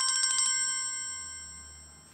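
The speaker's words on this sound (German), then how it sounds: "Oh, muss dein Handy so laut klingeln?" A mobile phone ringtone sounds at home with a rapid pulsing electronic melody that then sustains as a steady high tone, slowly fading, with no talk over it.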